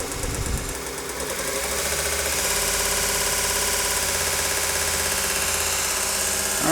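A VEVOR 30 x 1-inch variable-speed belt grinder with VFD spins up to 5,000 RPM, a loud, steady whirring drone with strong mechanical vibration that builds and then holds constant.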